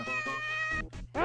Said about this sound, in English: That's the sound of a cat.